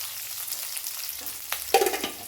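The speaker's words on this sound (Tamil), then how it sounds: "ஒரு ரெண்டு பெரிய வெங்காயம் கட் பண்ணி வச்சுருக்கேன் நான் கலந்துக்கிறேன்" Onions and fennel seeds fry in oil for a chickpea kurma while being stirred, a soft hiss rising into louder scraping stirs near the end.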